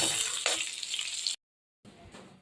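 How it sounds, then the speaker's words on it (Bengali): Two bay leaves hit hot oil that was just used for frying papaya and potato, giving a loud, close, steady sizzle that cuts out abruptly and then resumes more quietly, with no voices. "ওই তেলেই ফোড়ন দিয়ে দিলাম দিয়ে দিচ্ছি দুটো তেজপাতা"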